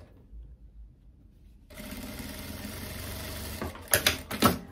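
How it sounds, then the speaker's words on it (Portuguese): A sewing machine runs a topstitch along the edge of wide-leg trousers, its motor starting after a quiet pause and whirring steadily at close range, with a few sharper mechanical clicks near the end. "vou fazer um pesponto bem na beiradinha"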